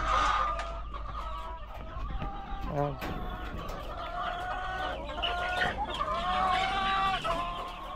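Chickens cluck and squawk continuously close by, a busy flock chattering over a low steady background rumble.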